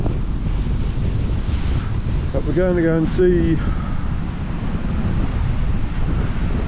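Ocean waves and wind along the Paphos coast in Cyprus make a steady, broad rushing roar throughout, with strong wind buffeting on the microphone and a brief bout of speech near the middle.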